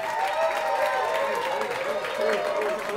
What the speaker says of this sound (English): Big round of applause for the father of the bride, ladies and gentlemen.